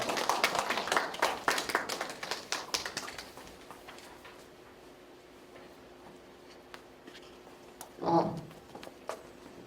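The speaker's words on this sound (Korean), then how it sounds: "큰 박수로 맞이해 주시기 바랍니다." Applause from a lecture audience welcoming a speaker at a youth culture talk, a burst of clapping in the first few seconds that thins out, then quieter room tone with a brief noise near the end.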